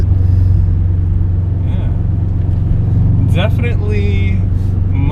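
Subaru WRX engine pulling under light throttle, a steady low rumble of the car picking up speed from inside the cabin, with someone talking briefly over it.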